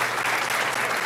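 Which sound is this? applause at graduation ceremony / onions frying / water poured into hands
applause at graduation ceremony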